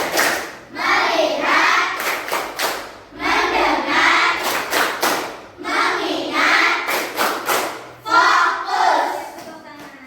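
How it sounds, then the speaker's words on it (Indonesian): A classroom of children chants a short call-and-response phrase while clapping together in a rhythmic focus routine, with several bursts of sharp, crisp hand claps repeating in a steady pattern between the loud group voices. "Kita lakukan tepuk fokus."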